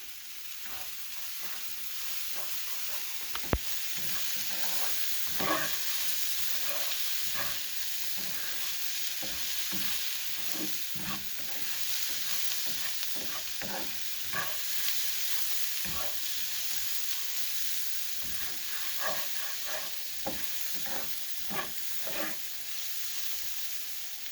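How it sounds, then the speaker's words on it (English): Rice cooks in a pan and is stirred, giving a quiet steady sizzle with soft repeated scrapes of the spoon in an irregular rhythm. "Okay, I'm going to give a good stir on this rice again."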